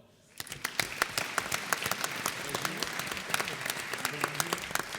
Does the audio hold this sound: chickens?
no